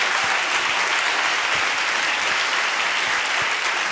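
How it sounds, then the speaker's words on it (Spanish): An audience at a business opportunity meeting gives loud, sustained applause, dense and continuous with no pause. "Un fuerte, fuerte aplauso para ellos."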